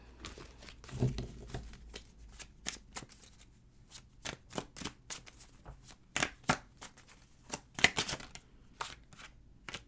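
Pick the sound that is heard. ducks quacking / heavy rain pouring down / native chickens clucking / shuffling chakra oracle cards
shuffling chakra oracle cards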